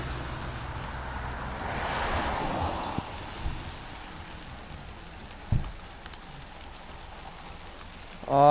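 Rain patters steadily on a surface, with a passing whoosh early on and a couple of dull knocks.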